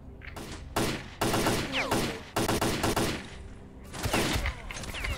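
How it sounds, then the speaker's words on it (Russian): Rapid gunfire rattles in the shooter game S.T.A.L.K.E.R.: Clear Sky, several loud bursts and single shots in quick irregular succession, with short echoing tails between them. "Откуда он стреляет?"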